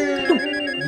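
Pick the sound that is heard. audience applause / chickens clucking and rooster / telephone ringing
telephone ringing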